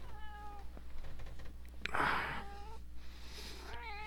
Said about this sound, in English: Here to join in on the video is my cat.